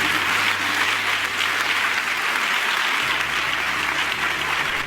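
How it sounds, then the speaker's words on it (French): Audience applauding steadily at a conference session, a dense, even wash of clapping held at full volume for about five seconds with no talk over it. "Applaudissez-le s'il vous plaît."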